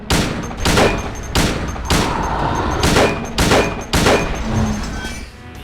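Gunshots from the video game Silent Hill 2 ring out one after another, about seven loud, sharp reports spaced roughly evenly, each with a short echoing tail.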